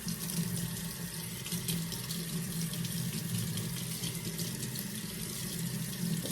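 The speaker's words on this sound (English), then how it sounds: "so I'm going to put some more water on it." Water poured onto wet fabric makes a steady splashing, running sound, close and even throughout with no talking.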